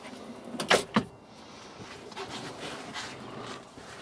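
Quick sliding rumble and a thump as a silverware drawer in a camper van runs open, followed by quiet room noise.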